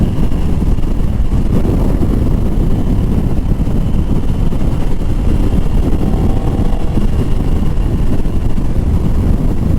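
Moto Morini motorcycle engine pulling under throttle on a test ride, a loud continuous drone mixed with heavy wind rush, steady and close throughout, no talk.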